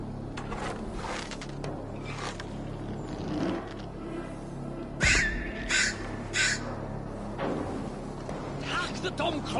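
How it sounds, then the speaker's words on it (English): A crow caws a few times in a video game, sharp calls cutting through a busy background mix of ambience and mechanical sounds. "Hack the dumb crow down!"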